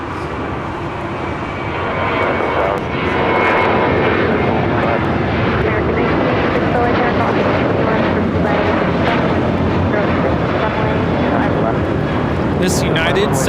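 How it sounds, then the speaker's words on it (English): A United Boeing 737-800 takes off at Los Angeles airport, its engine roar building to a loud, sustained rumble with a broad hiss that continues throughout, while a voice talks over it. "This United 737-800 is taking off to Phoenix, flight 368."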